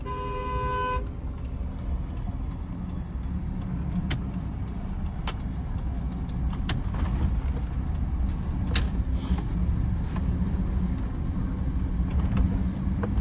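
A car drives at a steady pace through narrow lanes, its engine and road noise forming a continuous low rumble, with a brief tonal beep at the start and occasional light clicks.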